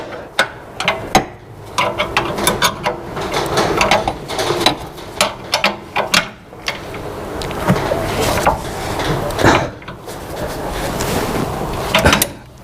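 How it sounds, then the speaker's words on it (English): A spanner holds a bolt head on the sports exhaust of a Porsche Boxster 981 GTS, giving a series of sharp metallic clicks, knocks and scrapes at close range with brief pauses, no talk. "I'm having to hold the head of the bolt with the spanner"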